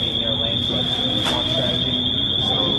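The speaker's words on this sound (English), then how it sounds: "Oh, and the alarm's going off." A steady, piercing electronic alarm tone sounds continuously throughout, loud and unbroken, while people talk over it.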